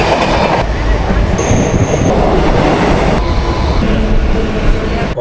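A late-running Mumbai local train heading to CST runs along with a loud, constant rumble and rattling clatter of wheels, broken by a brief high whine partway through.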